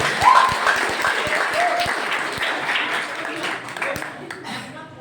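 Audience applause for the lighting crew of a stage play, a dense round of hand clapping that is loudest at the start and gradually tapers off, with a voice speaking briefly through it.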